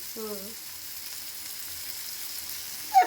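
Garam masala sizzles quietly in hot oil in a pan while a chickpea and paneer curry is cooked, a soft, steady frying hiss with a small clink near the end.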